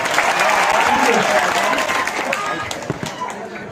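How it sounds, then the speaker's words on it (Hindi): Crowd at a Ganesh Puja dance program clapping loudly after a dance performance, a dense, sustained round of applause that gradually thins, with voices mixed in. "एक बार जोरदार तालियां इनके लिए बजा दीजिए।"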